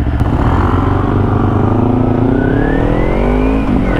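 A motorcycle engine is revved hard at close range, a loud continuous roar whose pitch climbs steadily over several seconds before easing off near the end.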